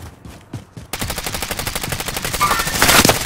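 Rapid automatic gunfire in a battle-royale squad match, a dense burst of shots that keeps building in loudness over a few seconds, with a few scattered shots before it.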